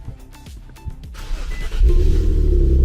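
A truck engine being started with a jump starter: the starter cranks in quick rhythmic bursts, then the engine catches and settles into a loud, close, steady idle rumble, with no talking.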